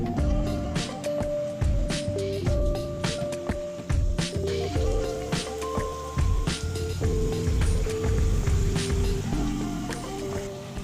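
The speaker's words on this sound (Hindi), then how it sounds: "ये हमारा तेल गरम हो गया है। अब इसमें हम डालेंगे पापड़ी।" Papdi dropped into hot oil for frying, giving a steady dense crackle and bubbling with scattered sharp pops, with a faint tonal hum running underneath throughout.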